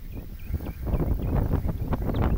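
Steady wind blowing across an open outdoor battleground with a monument and pavilion, a continuous broadband rush with gusty swells and microphone buffeting throughout, no talk.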